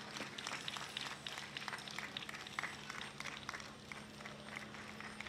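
An audience gives faint, distant applause with scattered clapping after a concert at the 2013 Hanamaki Airport Sky Festa. The clapping stays steady at a low level, with a faint hum underneath.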